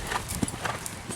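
Horse hooves clip-clop on a farm in a brief run of soft, uneven knocks, heard under a voice talking.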